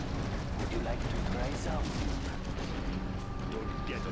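Dense, continuous booming quad cannon fire in Command & Conquer Generals Zero Hour, heavy and rumbling throughout with no pauses.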